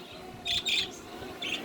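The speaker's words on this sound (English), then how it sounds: "And yep, that is our birds." Several bright, high chirps from pet birds indoors, in two quick bursts and then a shorter one, over a low room hum.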